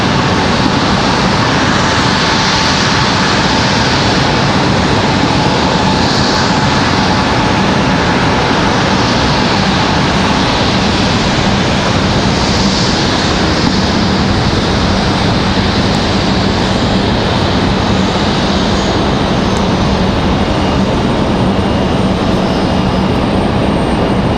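A Delta CRJ regional jet taxiing at Raleigh-Durham International Airport, its engines holding a steady, loud roar close by for the whole stretch, with no voices.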